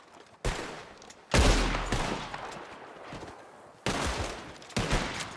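Gunfire from Red Dead Redemption 2 during a shootout with gunmen hiding in cabins: several loud, booming volleys of shots with dense crackling echoes, arriving in bursts over a few seconds, no speech.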